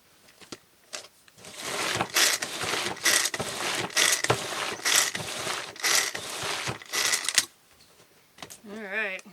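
Pull-cord manual food chopper working through carne asada marinade, a series of rapid rattling, ratcheting whirs from repeated cord pulls, loud and close, with a voice speaking briefly at the end.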